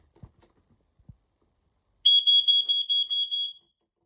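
Smoke detector under test gives a loud, close, steady high-pitched alarm tone pulsing for about a second and a half, after some faint handling clicks.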